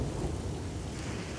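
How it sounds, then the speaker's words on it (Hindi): Heavy rain pours down steadily on a rooftop kitchen, a loud, dense rush of noise filling the brief moment without any talking. "वाह, कितनी अच्छी बारिश हो रही है।"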